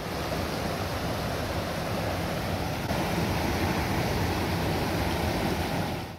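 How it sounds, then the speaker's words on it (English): Rushing river rapids at a Muskoka nature spot, a steady broadband roar of turbulent water that stays loud and close without a break throughout. "And here are the rapids."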